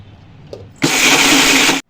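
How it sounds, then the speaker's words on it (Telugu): A mixer grinder grinding roasted spices into paste whirs loudly for about a second, starting abruptly and cutting off sharply, after a quiet moment and a small clink. "ఇవన్నీ మిక్సీలో వేసుకొని పేస్ట్ చేసుకోవాలి"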